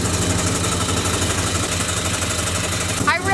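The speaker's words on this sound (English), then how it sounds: "Here's the engine," Old Ford F250 truck engine idling up close, a steady, rhythmic mechanical chug and vibration that runs throughout, with a brief voice at the very end.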